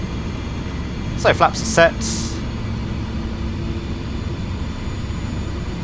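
A steady, droning engine of a Pilatus PC-6 Porter at idle power in Microsoft Flight Simulator, a constant low hum throughout, with someone briefly talking over it near the start.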